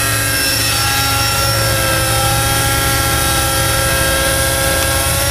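Nitro Trex 600N RC helicopter engine running in idle-up mode, a loud, steady, high-pitched droning whine with a constant buzzing tone throughout, no talking.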